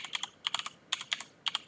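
Someone types a password on a computer keyboard: quiet, close clicks in three quick clusters of keystrokes separated by short pauses, with no talking.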